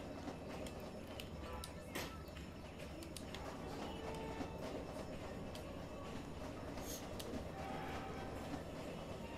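A train in the Roblox game Jailbreak rumbles along steadily with a clickety-clack rhythm and faint scattered clicks, all fairly quiet, with no talking.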